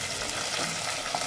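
Turmeric, ground red chili and cumin frying in oil for chana dal, a brief steady hiss of sizzling at close range with no talk.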